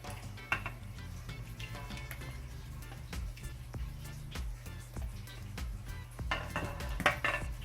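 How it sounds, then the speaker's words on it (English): Shrimp going into a Jamaican-style curry sauce in a pan brings soft clinks and scraping of a utensil against the pan over a low simmer, faint and close. "now I'm just gonna go ahead and add the shrimp to it"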